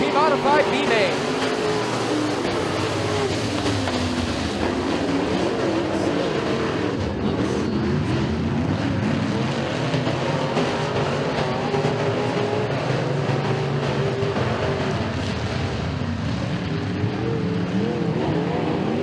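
UMP Modified race cars roar around a dirt speedway as a field, a loud continuous engine drone that swells and shifts as the pack passes, with an announcer talking over it.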